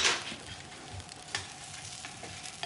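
Food frying in a pan in a home kitchen, a soft continuous sizzle with small crackles and a brief stirring scrape near the start, close and alone without talk.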